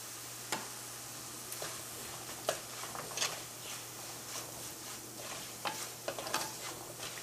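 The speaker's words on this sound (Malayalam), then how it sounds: "ഈ മുളക് പൊടിയും എണ്ണയിൽ കിടന്ന് നന്നായിട്ട് മുരിയണം" Chili powder frying in oil for a Kerala-style fish curry, a faint soft sizzle under scattered light clinks and scrapes of a spoon stirring the pan, no talking.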